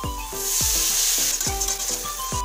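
Spices for chicken curry, among them turmeric, cumin, coriander and Kashmiri red chilli, sizzle loudly in a pan with a steady hiss, while a utensil stirs in repeated strokes and scrapes. No one speaks.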